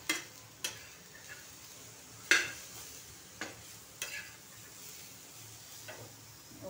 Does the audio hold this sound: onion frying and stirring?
yes